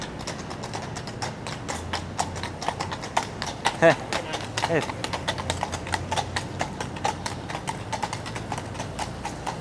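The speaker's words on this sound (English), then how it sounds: "This is the second night in a row we're seeing the NYPD mounted unit." NYPD mounted unit horses walk a Midtown Manhattan street at night, their hooves clip-clopping in a steady, close rhythm throughout, with voices and city noise around them.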